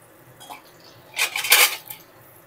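Fried jackfruit pieces, drained of oil, are tipped into a bowl with a couple of close, bright clinks and scrapes against the dish around the middle, and quiet kitchen background before and after.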